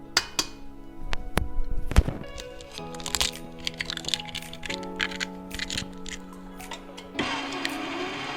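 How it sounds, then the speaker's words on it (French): Eggs are cracked and added one at a time to cupcake batter, giving sharp crack and tap sounds on a bowl rim. Clinks and soft thuds follow against a faint steady hum, with no talk. "on va ajouter les œufs un par un."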